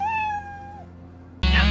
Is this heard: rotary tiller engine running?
no